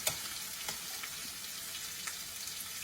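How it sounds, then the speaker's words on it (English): Black bean burger patties frying in a pan on medium heat, giving a steady, even sizzle with occasional soft pops and crackles. "what I do is I fry them on that medium heat"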